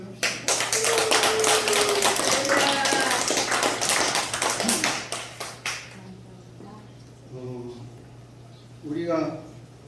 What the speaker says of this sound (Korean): 우리 반주자를 위해서 또 우리 사모님들을 위해서 박수 한번 합시다